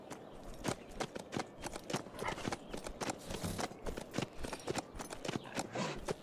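A horse's hooves clip-clop in a steady walking rhythm in the zombie survival game HumanitZ, each strike crisp and close, repeating evenly over a quiet background.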